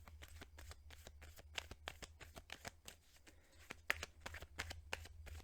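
Tarot cards are shuffled close up, a steady run of quick riffling flutters and soft snaps at a quiet level with no voices.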